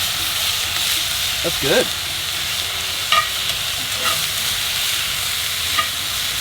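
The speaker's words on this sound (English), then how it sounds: "give our cabbage onion mixture a little bit of a twirl. Oh yeah. And we're just softening this stuff" Cabbage and onions soften in a pan set over charcoal, giving off a steady close hiss while a utensil stirs them in a few brief scrapes; someone speaks briefly over the sizzle.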